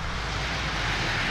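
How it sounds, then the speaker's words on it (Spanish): Airplane flying overhead in the Euro Truck Simulator 2 driving game, a steady, loud broadband engine roar that holds evenly throughout the short stretch with no talk. "Madre mía, los aviones."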